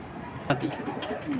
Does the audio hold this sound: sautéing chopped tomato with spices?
no